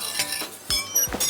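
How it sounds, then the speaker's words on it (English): Cutlery clinks and clatters against plates in a noisy restaurant, coming as several sharp, separate chinks of metal on crockery at moderate volume, with no voices. "That was the sound of cutlery on plates."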